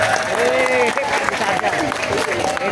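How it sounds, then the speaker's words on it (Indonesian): Audience applause at an inauguration ceremony for a road widening at a toll exit in Gabus, with crowd cheering and clapping steadily throughout, mixed with voices and a tonal sound rising over the noise. "Tepuk tangan untuk Pak Haji Sarjan."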